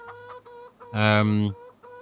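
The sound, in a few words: chickens clucking in video game Farming Simulator 25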